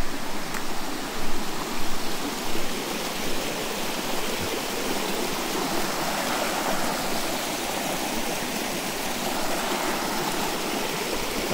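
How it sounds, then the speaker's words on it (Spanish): Salto La Encantada, a double waterfall on a river in Añasco, Puerto Rico, roars as a steady, dense rush of falling water that holds constant and loud throughout, with no voices. "Aquí hay otro salto, ¿verdad? Prácticamente son dos saltos en uno."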